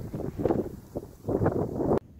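Strong wind gusting across an outdoor allotment plot in bitterly cold weather, a broad rushing roar rising and falling in two long surges before cutting off abruptly.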